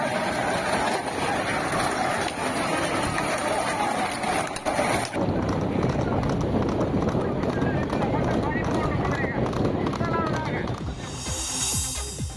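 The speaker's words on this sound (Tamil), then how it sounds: "12 கிலோமீட்டர் தூரம் நடைபெற்ற போட்டியில் 36 குதிரை வண்டிகளும் 60 மாட்டு வண்டிகளும் கலந்து கொண்டன" Horse-drawn carts racing at a village festival cart race near Aranthangi in Pudukkottai, Tamil Nadu, hooves clattering in a rapid steady rhythm under constant wind and crowd noise, with a news voice speaking over it.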